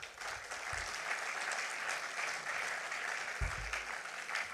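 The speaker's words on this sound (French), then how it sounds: "je pense qu'on peut applaudir Jean-Louis et Jean-Christophe." Audience applause at a political party congress, a steady, moderately distant wash of many hands clapping, with a couple of low thumps from handling or stage noise.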